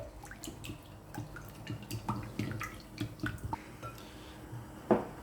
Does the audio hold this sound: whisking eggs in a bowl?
yes